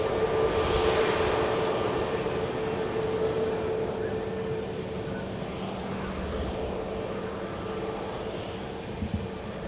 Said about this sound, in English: EasyJet next to land from Palma de Mallorca.